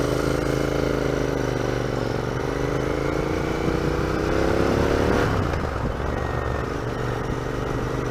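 A 2019 Royal Enfield Interceptor motorcycle engine drones steadily while riding, a close, loud harmonic hum that rises in pitch, then drops and shifts around a gear change, with wind noise underneath.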